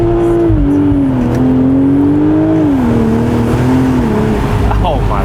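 A car in automatic drive on wet ground revs and accelerates, its engine note rising and falling in pitch, loud and close, with a faint tire hiss toward the end.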